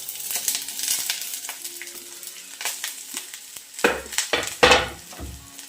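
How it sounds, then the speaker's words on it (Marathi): Onion, garlic and coconut frying in hot oil on a gas stove, a soft sizzle with scattered stirring scrapes that turns into several louder, sharper sputters and clatters toward the end. "तेल बघा चांगलं असं गरम झालं आहे आणि आता गॅसवरती पटकन भाजून घेते"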